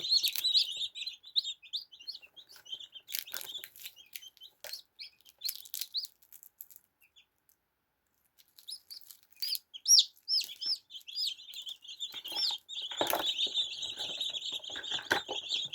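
Newly hatched chicks from a home incubator chirp in quick, high peeps, a scattered chorus that fades to near silence midway before returning busier and louder with a few fuller clucking calls.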